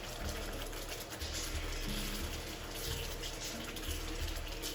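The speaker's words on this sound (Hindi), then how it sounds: "साथ साथ आप इसमें थोड़ा सा पानी भी डालते जाएं।" Water pours steadily into masala frying for chana dal, a continuous rushing, splashing stream with some low cooking hiss beneath, close and constant throughout with no speech.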